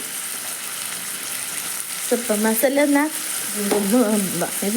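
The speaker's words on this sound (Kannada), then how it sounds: "ಒಂದು ಸ್ವಲ್ಪ ಎಣ್ಣೆ ಜೀರಿಗೆ ಸಾಸಿವೆ ಬೆಳ್ಳುಳ್ಳಿ ಹಾಕಿ ಒಗ್ಗರಣೆ ಕೊಟ್ಟಿನಿ" Oil tempering with cumin, mustard seeds and garlic sizzles steadily up close for a chickpea palya, a constant hiss running under a voice talking partway through.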